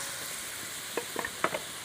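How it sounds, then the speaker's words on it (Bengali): Fried fish going into simmering mustard paste gravy in a village kitchen: a steady soft sizzle and bubbling, with a few sharper splashes and stirring clinks near the end, fairly quiet and close. "ভালো করে ফুটিয়ে নিয়েছি, এবার আমি ভাজা মাছগুলো দিয়ে দিচ্ছি।"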